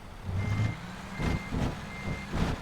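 A heavy truck in American Truck Simulator labours while backing up, its low engine drone pulsing and bogging in uneven surges under a thin, steady reversing tone.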